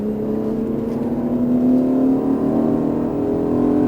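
An Aston Martin Vantage on a race track at Las Vegas, its engine droning steadily and rising in pitch as the throttle is fed in, loud and continuous throughout with no talking.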